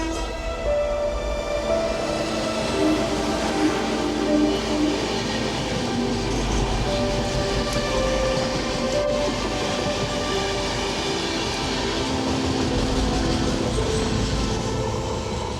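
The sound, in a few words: train passing at Villupuram junction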